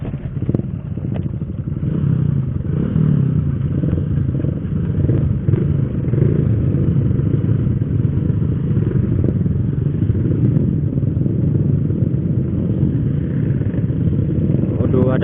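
A carbureted Honda Supra motorcycle on a group touring ride, its engine a steady low drone under continuous wind rumble.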